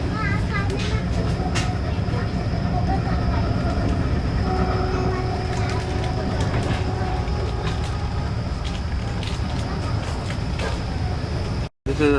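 Tejas Express train near Ratnagiri, a continuous rumble of wheels and carriage noise heard from inside a first-class coach, steady and close with faint clicks, briefly cutting out near the end as it slows.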